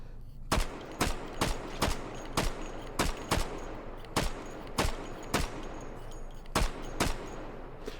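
Sharp gunshots fire in a VR shooting video game, a dozen or so loud single and paired shots spaced irregularly, each cracking close and clear with no talk between them.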